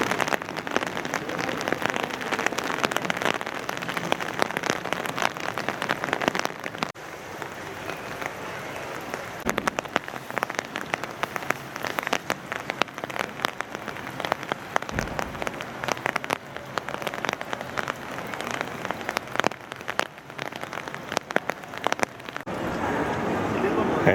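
Steady rain pattering on surfaces in Freiburg in the Black Forest, a dense continuous hiss with brief dips, heard close and fairly loud.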